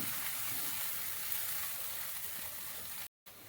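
A paste being stirred into hot ghee for an Assamese khir dessert sizzles with a steady, close, bright hiss that stays even until a brief cutout just before the end.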